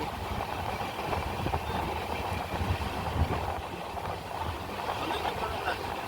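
Train rolling across the Nasipur rail bridge over the Bhagirathi river, on the Kolkata–Sairang Express toward NJP: a steady, dense rumble of wheels and carriages, continuous and fairly loud throughout, with no clear voices.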